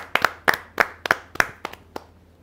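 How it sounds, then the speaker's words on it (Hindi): An audience claps to welcome a poet onto the stage at a Hindi poetry gathering, with about nine sharp, separated bursts of hand claps that fade out after two seconds. "आप जोरदार तालियों से स्वागत करें मनोज कुमार शुक्ल जी"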